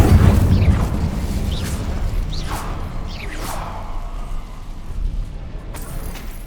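Incendio fire spell cast in a Harry Potter video game, a deep boom at the start followed by several quick rising whooshes and bursts, loud and close.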